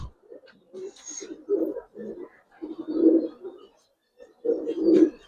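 Giribaz pigeons of an old Dhaka coloring breed coo softly nearby in several short bursts, with low throaty rolling calls separated by brief pauses.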